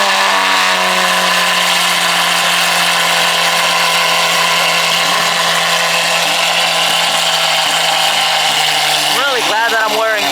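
A Lamborghini Aventador supercar roars nearby with a loud, sustained engine drone that holds and then flares into sharp revving bursts near the end.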